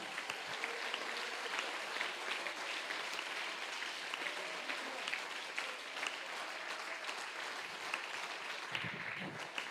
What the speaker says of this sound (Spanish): Si quiere aplaudirlo, hágalo con ganas.